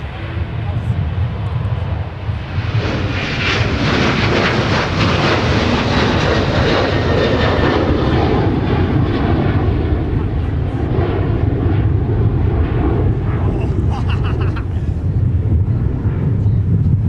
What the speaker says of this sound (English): 737-900ER to show up on the property for Sun Country Airlines